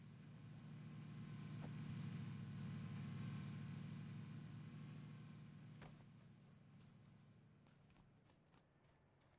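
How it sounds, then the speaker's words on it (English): A car driving in PUBG, a steady engine drone close by that swells over the first few seconds, then recedes and fades toward the end, with faint footstep-like clicks along the way. "Oh, car."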